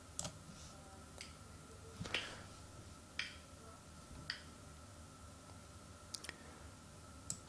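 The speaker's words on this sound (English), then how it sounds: "each of these impulse responses, hand claps, can be played back separately" Recorded hand-clap impulse responses played back one after another: about seven sharp, separate claps spaced roughly a second apart, each ringing briefly, over a constant low hum from a computer fan in the room.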